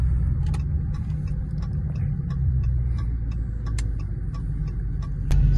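Dodge Charger SRT Hellcat engine rumbles steadily in a low, continuous drone heard from inside the car, with light ticking clicks on top and a brief louder surge near the end.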